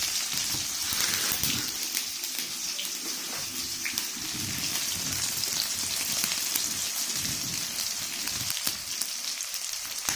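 Chopped onions sizzle and crackle in hot oil in a kadai while being stirred, a steady close hiss with scattered pops and occasional scraping, no voices.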